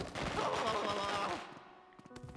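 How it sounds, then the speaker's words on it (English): Video-game firecrackers in Luigi's Mansion 3: a rapid crackling volley of pops bursts for over a second, then trails into a few scattered sharp snaps, with voices mixed in. "Firecrackers?"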